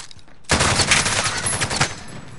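Rapid automatic gunfire in a Call of Duty Warzone Rebirth match bursts in loud and close after a half-second lull, a dense, sustained rattle of shots filling the rest of the moment.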